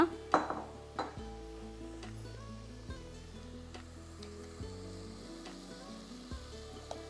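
Tomatoes cook in a pan, giving a soft steady sizzle under low hums and a few clinks of utensil against the pan near the start.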